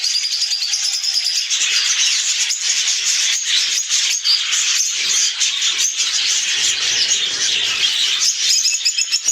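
Many small birds kept indoors in a room chirp and tweet continuously in a dense, bright chorus, with rattling and squeaky calls throughout and no talking.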